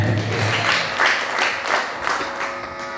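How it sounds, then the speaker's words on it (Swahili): A church congregation applauds, the clapping rising and falling in broad waves and then holding steady throughout. "Pigia Bwana makofi, amen."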